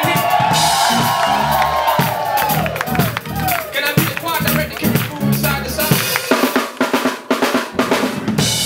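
Church congregation cheering, whooping and shouting in a dense, loud roar that swells and breaks into bursts, with clapping and voices mixed through.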